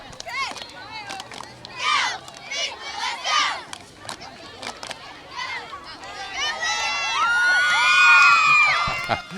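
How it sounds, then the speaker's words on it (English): Spectators at the 2013 Spring-Ford homecoming parade shout and chant close by in bursts, then swell into a long, loud run of high-pitched cheering and whooping. "We're going to get a cheer."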